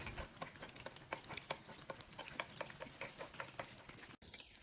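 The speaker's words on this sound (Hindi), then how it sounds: "मीडियम हाई फ्लेम पे हम इसको फ्राई करेंगे।" Thin beef cutlets fry in a pan over a medium-high flame, giving a quiet, continuous crackle and spatter with a brief drop in sound near the end.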